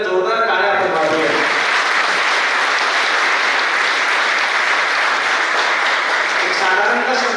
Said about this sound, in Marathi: एकदा जोरदार टाळ्या आपण वाजवूया.